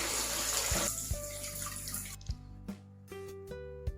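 Cold tap water runs and splashes over blanched pork trotters in a sink, then stops, followed by scattered drips and light knocks.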